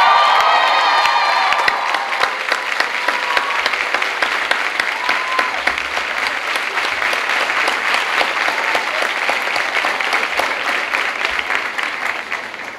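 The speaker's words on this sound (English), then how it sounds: "give a round of applause to your families and friends" Sustained applause from a large audience at a 2003 community college commencement ceremony, dense and steady clapping with a few whoops early on, slowly thinning toward the end.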